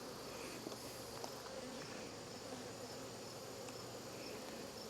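Honey bees buzz steadily from an open hive during an inspection, a dense, continuous drone close by with no voices.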